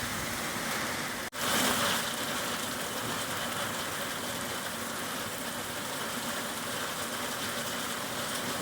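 Heavy rain pours during a summer hailstorm, a dense, steady broadband hiss with a brief dropout near the start, then constant and fairly loud.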